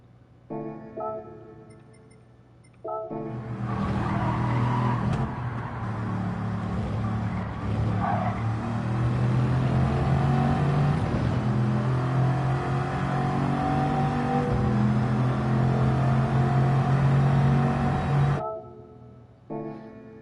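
Bugatti race car in a racing video game lapping the Sarthe circuit, engine rising from idle into a loud sustained high-revving drone for about fifteen seconds with shifts, then cutting back to quiet.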